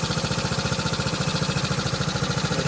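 A 1969 Honda CT90 motorcycle's small single-cylinder engine idles close by, giving a steady, fast chugging pulse with an even rhythm throughout and no voices over it.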